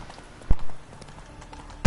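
Roach the horse's hooves in The Witcher video game give two distinct clops, one near the start and one at the end, with quiet ambience between.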